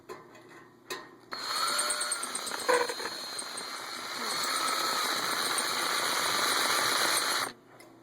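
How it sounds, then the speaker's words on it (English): A power drill with a small bit cuts into a PC case being made into a grow box, whirring loudly and steadily for several seconds after a short start, then stopping abruptly. "If you got a small drill bit, what you're going to want to do is just go in there and just move it around so you can cut around it."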